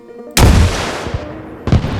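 A Carl Gustaf recoilless launcher fires in the video game Arma Reforger, giving a loud, sharp boom with a rumbling tail, followed moments later by a second heavy blast, with no talking.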